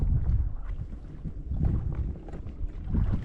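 Outdoor wind buffets the microphone near water, producing loud, continuous low rumbling gusts that swell and ease in uneven pulses, with no talking.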